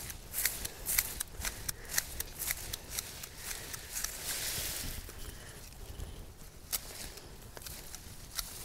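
Pruning shears snip back overgrown garden container plants, a quick series of sharp, close cuts with rustling foliage between them and no voices.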